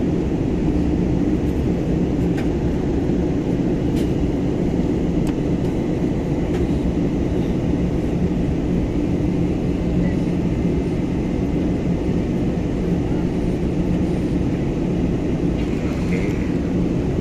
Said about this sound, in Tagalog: Tumagilid na yung aeroplano dahil papunta na tayo doon.